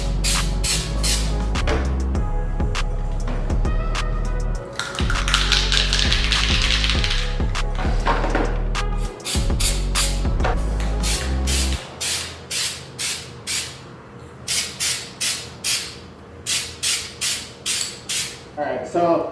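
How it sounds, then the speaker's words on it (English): Spray paint cans hiss in a garage while a winter ice-and-snow sculpture is being coated, first in long continuous sprays and then in a rapid series of short, sharp bursts, close and loud. "we're gonna start spray painting some stuff that hopefully looks like ice and snow"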